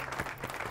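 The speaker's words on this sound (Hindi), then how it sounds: "तालियां तो बजा दे भाई" Faint, brief clapping from a studio audience on a cooking competition show, a soft scattered patter of hands at low level.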